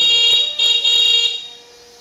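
An electric garbage rickshaw's horn gives a loud, shrill electronic beeping tone close by, pulsing in a few bursts before fading down.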